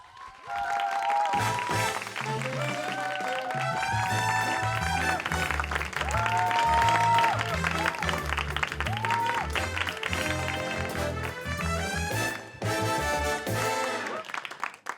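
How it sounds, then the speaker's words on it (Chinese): A theatre audience at a Singapore comedy tribute show applauds warmly to welcome the host, sustained clapping over a loud musical fanfare that swells and carries on throughout. "现在，让我们一起用热烈的掌声欢迎主持人陈建斌。"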